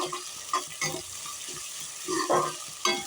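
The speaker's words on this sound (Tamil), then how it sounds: "நல்லா வதங்கணும் வெங்காயம்." Onions being sautéed and stirred in a pan, a soft steady sizzle with a few louder stirring scrapes, close and without talk.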